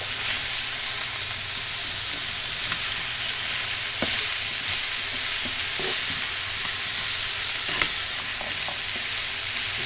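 Scallops sizzle and fry in a pan with a continuous bright hiss, broken by occasional clinks and scrapes from stirring, fairly close and steady.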